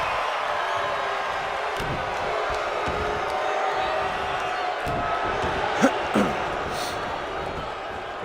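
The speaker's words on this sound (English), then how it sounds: "Very vocal crowd here in attendance." A wrestling arena crowd in the WWE 2K19 video game roars in a steady wash of cheering and chatter, with a couple of brief louder shouts and thuds, and a commentator's voice underneath.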